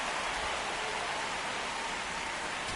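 Rain falls in MLB The Show, a steady hiss of broadband noise that holds at an even level throughout with no talk over it.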